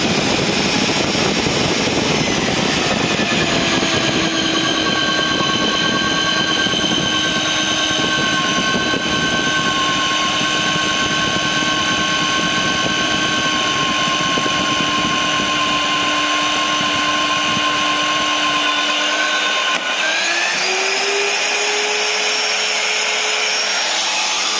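A VEVOR magnetic drill bores through thick steel, its motor whining steadily and loudly for the whole stretch with a constant high-pitched drone, dipping and shifting in tone near the end as the cutter breaks through.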